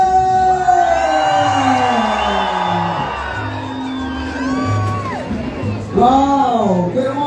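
Crowd cheering and whooping at a paper balloon contest in Zozocolco de Hidalgo as a large China-paper hot-air balloon rises, loud overlapping shouts and yells with a voice calling out amid them.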